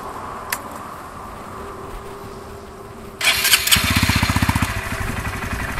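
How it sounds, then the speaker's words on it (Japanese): A Honda Grom 125 motorcycle fitted with an aftermarket titanium Over muffler starts at a roadside rest stop with a sharp crank, then settles into a close, throbbing idle with rapid exhaust pulses. "グロム125、チタンのオーバー製マフラーのマフラー音になりますね"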